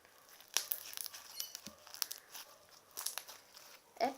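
Slime squished and folded over in a waterfall motion makes close, crinkly, crackling squelches in uneven bursts, with no talking.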